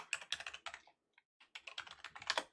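Rapid clicking of keys on a computer keyboard comes in two quick bursts separated by a short pause, close and quiet, with no talking.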